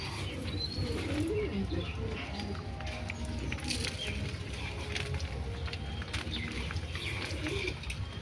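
Young fancy pigeons recently separated from their parents give soft, low coos and small chirps at moderate distance, over a steady low rumble and light pattering background.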